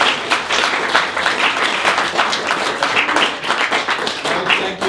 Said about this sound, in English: let's have another clap for Helen.